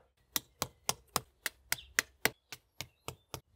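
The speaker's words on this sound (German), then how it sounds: "Unsere drei Dübel mit einem einfachen Hammer hineinklopfen." Twelve sharp, evenly spaced taps of a simple hammer driving wall plugs into a wall, crisp and close, in a steady rhythm with no talking.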